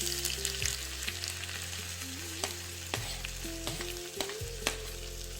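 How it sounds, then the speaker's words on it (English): Mustard and cumin seeds sizzle and pop in heated oil for an Indian spinach dal tadka, a steady close frying hiss with scattered sharp crackles throughout. "Add mustard seeds to the heated oil. Also add jeera seeds."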